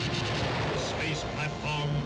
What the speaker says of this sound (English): The Great One himself sends the cosmic blast that atomizes rocket ship.